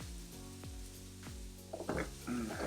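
Garlic and vegetables frying in hot oil for homemade salsa, a steady close sizzle with several muted knocks and brief spattering crackles toward the end.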